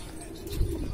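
A Patiala breed pigeon gives a brief low coo, faint and slightly distant, against a soft background hiss.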